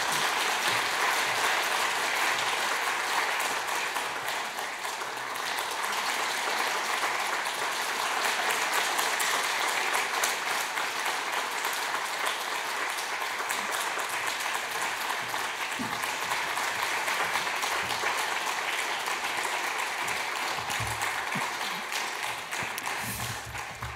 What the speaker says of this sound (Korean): 우리 함께 축복의 박수 부탁드리겠습니다